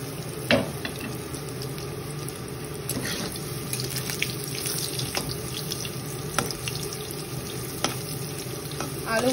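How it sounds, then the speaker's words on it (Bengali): Potatoes fry in hot oil with whole garam masala, giving a continuous hissing sizzle like rushing water, with occasional sharper pops and clinks over the steady noise. "আলুগুলো কিন্তু লাল লাল করে ভেজে নেব।"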